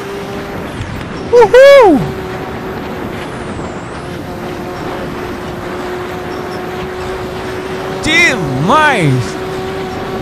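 Porsche Spyder and LaFerrari racing in Assetto Corsa, played on a Logitech G27 wheel: a steady engine drone with two rising-and-falling revving sweeps as cars shift and pass, while a man cheers excitedly over it.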